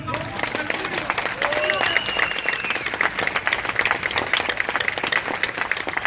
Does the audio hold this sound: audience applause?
yes